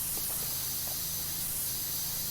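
A pressure washer nozzle on its longest extension sprays steadily in PowerWash Simulator, a constant broad hiss with a faint low hum beneath, with no talk.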